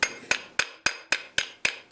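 Hammer blows ring out on a forged iron Betty lamp pan set over a flat stake, seven sharp, evenly spaced strikes about a third of a second apart, close and clear with short decays and no talking.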